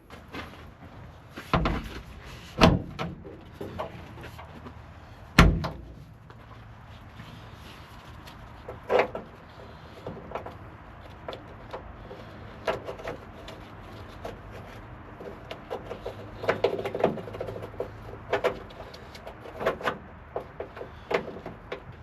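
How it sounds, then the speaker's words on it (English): A newly installed barn door is adjusted and closed, giving a run of knocks, thumps and scraping bumps, a few loud sharp hits early on, then smaller clunks spread over time. "that door's installed, lines up, it closes. It's a little stiff"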